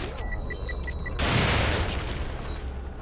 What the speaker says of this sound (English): let's use the explosive crossbow for right now